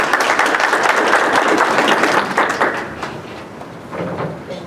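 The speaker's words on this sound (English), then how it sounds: "Let's hear a round of applause to Mindy" Audience applause at a public forum on antisemitism and religious hatred as a speaker is called forward, a dense crowd clapping that holds for a couple of seconds and then fades out.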